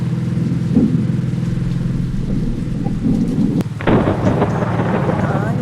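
Heavy rain pours steadily in a truck simulator game, with a loud thunder crack about halfway through followed by denser downpour and rumbling, all continuous and close with no talk.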